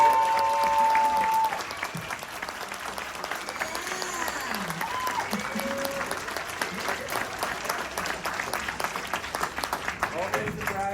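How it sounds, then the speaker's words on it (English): Audience at a Hellraiser convention panel during Days of the Dead Chicago bursts into sustained applause for a late-arriving cast member, a dense roomful of clapping and cheers running throughout, with voices chattering underneath. "I know we already did applause, but we got another cast member. Can we do it again?"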